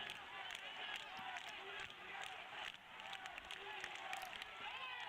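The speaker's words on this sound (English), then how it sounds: "because there's a lot of people cheering." A distant, faint crowd keeps up a steady roar of cheering and shouting around a karate kumite match, with voices mixed into the continuous noise.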